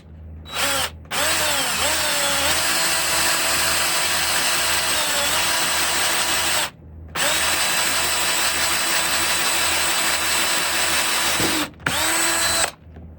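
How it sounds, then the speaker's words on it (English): A hand-held power drill whirs loudly in long bursts straight through a wooden walking stick, its pitch dipping under load, stopping briefly twice before starting again. No one speaks. "we'll do that with a hand drill and just drill straight through here."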